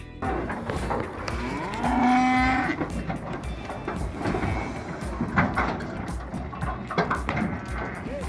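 Cattle moo in long low calls, one loud close bellow standing out over a busy rustling outdoor background.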